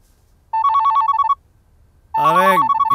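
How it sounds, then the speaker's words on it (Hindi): A telephone bell rings in two loud electronic bursts, a warbling trill followed by a pause and then a second ring, heard alone without talk. "फोन उठा ले यार, बज रहा है।"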